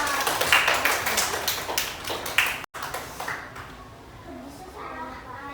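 Short burst of classroom applause from students, fading out as a teacher speaks.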